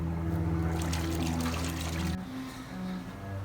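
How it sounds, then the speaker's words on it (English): Water from a hose splashing and running steadily over a tigerwood hardwood outdoor dining table being rinsed during refinishing, a close, continuous wash that drops in level partway through. "Let me rinse this off."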